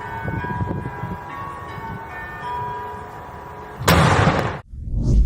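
A single sharp boom from St. Petersburg's noon cannon bursts out after a few seconds of steady outdoor city rumble, then quickly fades as the background noise returns.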